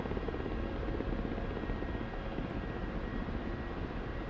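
A Ka-50 Black Shark helicopter in the DCS flight game gives a constant, dense rotor and engine drone, steady and fairly loud, with no breaks or voices.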